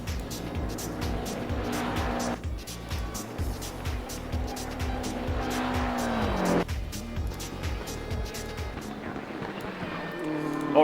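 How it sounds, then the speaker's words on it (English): BMW M6 GT3 race cars in a racing video game, with engines revving through gear changes, a pitch that climbs and then drops, and tire squeal, all loud and continuous. "This time we're racing in BMW M6 GT3s."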